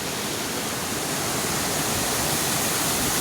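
A steady, dense rush of falling water from a waterfall in Konkan, India fills the air, a continuous broadband roar with no pauses.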